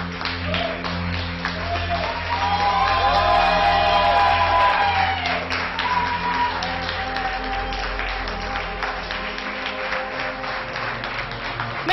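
Audience at a costume parade during the Geek Faëries festival applauds steadily, with scattered shouts and whoops in a large room and a continuous rumble of crowd noise, with no clear talk.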